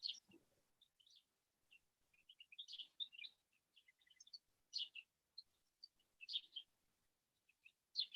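Birds in Greece chirp and twitter in scattered, faint bursts outdoors, with short calls separated by quiet gaps and no voices.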